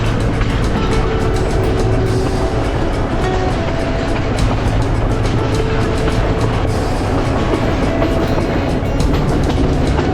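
A passenger train runs on rails through Sri Lanka's hill country, a loud, continuous rumble with rhythmic clattering of wheels from close inside or beside the carriages.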